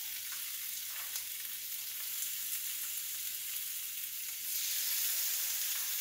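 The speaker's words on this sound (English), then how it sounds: "add the meat, let it mix in with it, and then we're going to add the sauce." Meat for a curry laksa fries in a pan with a continuous soft hiss and sizzle that swells louder near the end; faint stirring, with no voices.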